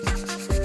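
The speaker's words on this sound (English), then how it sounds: "I'm going to cut a piece of sandpaper, then start sanding." Two quick back-and-forth strokes of sandpaper rasping against a bike surface, close and loud.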